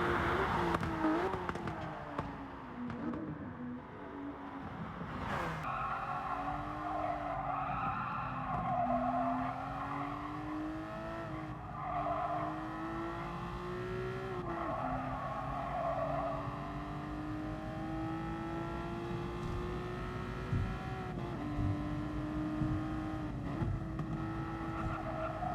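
A race car laps a circuit in GT Sport, its engine note climbing and falling through gear changes and corners, with tire squeal and a steady, close-up drone throughout.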